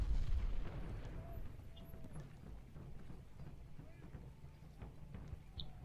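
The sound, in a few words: artillery fire in the video game Ultimate General: Gettysburg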